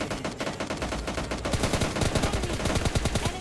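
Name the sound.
gunfire in the video game PUBG Lite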